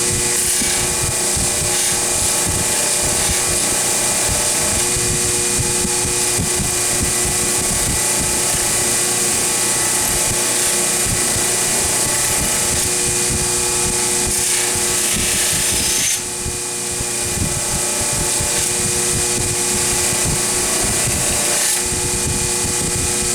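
A fiber wheel polishes a Stanley T-bevel, a loud steady whirring hum with a faint tonal whine that runs unbroken throughout, briefly dipping once near the end.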